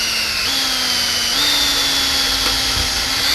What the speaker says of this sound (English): Drill one and then Cleco it and then drill the other.